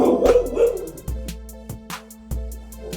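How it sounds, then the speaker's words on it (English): Several dogs bark in sharp, repeated bursts across the clip, fairly close and loud, with yips and whimpers between the barks in a home setting. "The dogs are going crazy"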